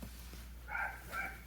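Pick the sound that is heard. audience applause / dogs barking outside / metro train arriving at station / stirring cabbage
dogs barking outside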